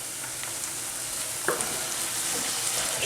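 Red wine vinegar hits a hot pan of onions, producing a dense steady sizzle with a brief splash-like burst in the middle, close and loud without any talk.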